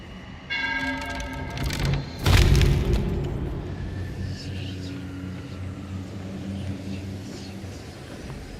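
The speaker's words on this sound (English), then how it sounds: "they're not taking damage from their blunder bombs" Blunder bombs bursting aboard a ship in the pirate game Sea of Thieves: one heavy, close boom with a sharp crack lands mid-scene over a sustained low hum and tonal game sounds, then fades into rumbling background.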